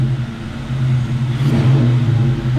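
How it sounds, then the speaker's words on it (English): Car engine fitted with a new intake manifold, coil packs and air intake, revving up with a rising intake whoosh over a steady mid-pitched idle drone, close and loud. "It's got more intake noise now."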